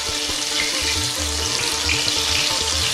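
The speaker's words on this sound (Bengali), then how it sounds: "ওই তেলেই আমি একটু আলু ভেজে নিচ্ছি।" Steamed, partly boiled potato pieces frying in oil on high flame, a continuous bright hiss with faint clinks of a pan underneath, steady throughout with no talking.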